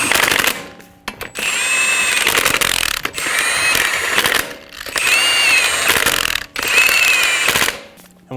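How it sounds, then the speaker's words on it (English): Lug nuts being tightened on a Toyota Camry front wheel: a power tool whirs and rattles in four long, loud bursts of a couple of seconds each, with a rising mechanical whine and short pauses between them, and no talking. "Snug down the lug nuts"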